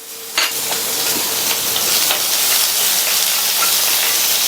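Chopped onion and slit green chillies sauté in hot oil in a pan, producing a loud, dense, continuous sizzle. A sharp clatter comes near the start, then steady stirring follows.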